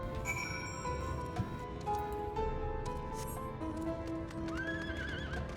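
Horses whinny and neigh repeatedly in Final Fantasy XIV over a dense bed of clip-clopping hooves and game background noise, loud and continuous throughout.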